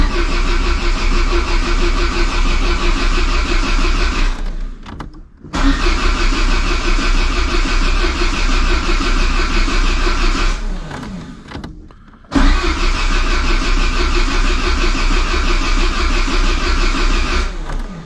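A Peugeot 205 GTI engine cranks loud and close without catching, in three long starter bursts separated by brief pauses, with no talking.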